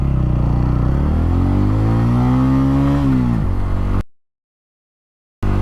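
A TVS Ronin 225 motorcycle revs hard and accelerates, its engine note rising steadily through the gears before dropping off. The sound then cuts to silence and briefly returns.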